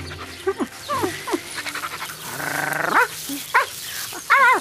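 A small dog pants in quick rhythmic bursts up close, with short whining yelps breaking in between.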